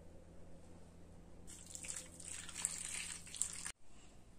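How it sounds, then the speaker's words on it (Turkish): Hot water poured over figs for a chocolate fig dessert, a steady splashing pour for about two seconds that stops abruptly, with a faint drip before it. "şimdi incirlerin üstüne sıcak suyumuzu döküyoruz"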